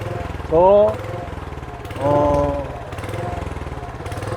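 A walk-behind farm cultivator engine chugs steadily nearby with its tilling blades spinning, a rapid pulsing putter running throughout while someone talks over it.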